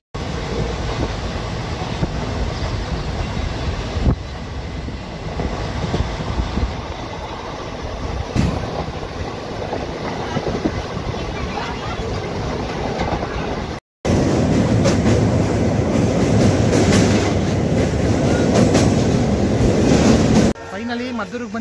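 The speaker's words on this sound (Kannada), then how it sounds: "ಟ್ರೈನ್ ಬಂತು, ಹೊರಡ್ತಾ ಇದ್ದೀನಿ." A train pulls into a small railway station and then departs, producing a sustained rumble and clatter of rail cars, with a louder, closer stretch of rolling clickety-clack after a brief break near the end.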